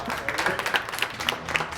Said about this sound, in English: So, Let's keep doing a round of applause.